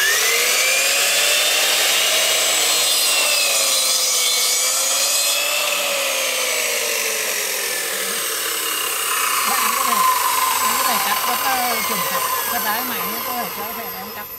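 A saw cuts an angled piece of wood, a loud, steady grinding whine that holds for several seconds before tapering off, with voices talking over it.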